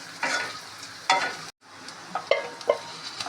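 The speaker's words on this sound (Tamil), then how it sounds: "பொட்டேட்டோ லைட்டாக ஃப்ரை ஆகணுன்னு தயிரில் மிக்ஸ் பண்ண மசாலாலாம் ஊற்ற போகிறேன்." Potatoes for dum aloo biryani fry lightly over a low flame, with stirring bursts and soft sizzling; a short silent gap follows before more clattering stirs as yogurt masala is poured in. No voices.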